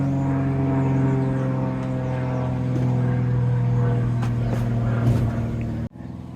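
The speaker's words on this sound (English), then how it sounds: "And now we've got a plane coming over." Small stunt aeroplane flying overhead outdoors, a loud steady propeller drone that holds for about six seconds before cutting off abruptly, with no talk over it.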